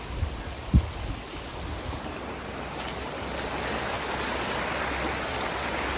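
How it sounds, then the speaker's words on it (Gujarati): Steady broadband rush of the flooded Sabarmati River below Dharoi Dam, loud and continuous, with a brief low thump near the start and no voices. "આટલું પાણી હેડે છે જો તમે લાઈવ દ્રશ્ય જોઈ શકો છો આ છે મિત્રો સાબરમતી નદી"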